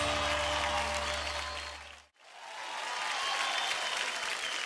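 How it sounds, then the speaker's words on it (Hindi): A studio audience at an Indian Idol 12 television singing show bursts into loud clapping over a low musical tone, dips briefly to near silence, then swells back into full applause. "जोरदार तालियां।"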